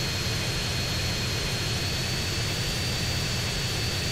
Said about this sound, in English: Now, we must try and land this plane.